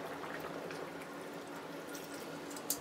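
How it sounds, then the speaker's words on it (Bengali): Milk poured into shukto, a Bengali vegetable dish, in a cooking pot, giving a steady close liquid pouring and bubbling wash with a small clink near the end. "এবার আমি দিয়ে দিচ্ছি দুধ"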